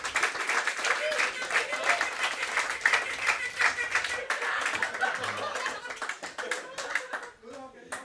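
A crowd claps loudly and steadily for the winner of a 9-ball pool final, the Stella Artois International Open, with scattered laughter. A commentator talks over the applause as it tapers off toward the end.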